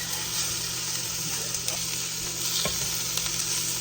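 Chicken browning in a pan for a maple glazed chicken dinner, a steady loud sizzle with occasional stirring scrapes, with no talking over it.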